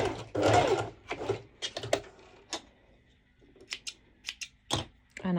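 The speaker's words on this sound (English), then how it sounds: "I go straight to my sew machine, and I'm doing first, once again, a back stitching" A sewing machine back stitches a sporty top with ruffles, running in short, close bursts of rapid mechanical stitching separated by brief pauses and a few clicks.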